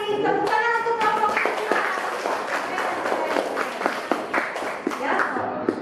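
Classroom applause for a student group during a school lesson, a dense patter of many hands clapping steadily at close range, with voices mixed in underneath.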